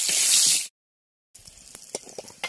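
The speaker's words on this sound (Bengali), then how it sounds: "আমটা ভেজে নেব।" Pieces of mango hiss loudly in hot oil for a moment before a brief gap, then quieter sizzling returns with scattered clinks of stirring in the pan.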